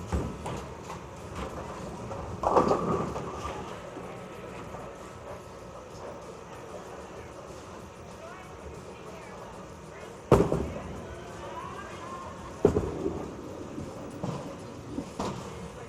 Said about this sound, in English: One more shot, let's try one more. 32 left, and shoot the 10 pin.